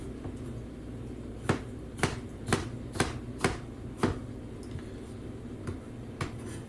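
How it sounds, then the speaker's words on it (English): Knife dicing potatoes into a small dice on a cutting board, several sharp distinct chops at an uneven pace, close and crisp over a low background hum, no talking. "so you don't want these potatoes really thick or they won't cook. So we're just going to do a small dice on these things."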